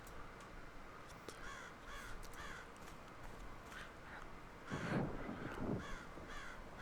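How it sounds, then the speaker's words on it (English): Crows caw in a series of harsh, rasping calls, some faint and distant and a louder pair of caws nearer, spread out over a quiet background hiss. "Take care of these birds, Wilbur."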